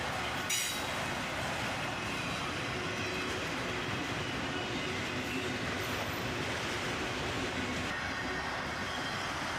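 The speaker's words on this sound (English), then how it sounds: "the tail end of this train passes us by" A long freight train with auto rack cars rumbles steadily past up close, wheels clattering on the rails with occasional high squeals, loud and continuous throughout.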